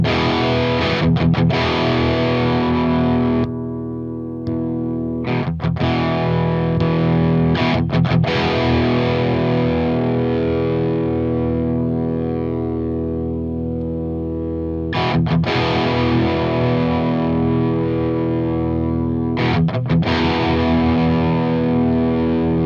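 Electric guitar played through a Friedman BE-100 amp pushed by an overdrive boost, thick and heavily distorted, with sustained chords ringing loud and steady and a few short breaks where the playing stops before resuming.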